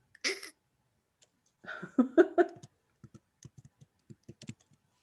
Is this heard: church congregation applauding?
no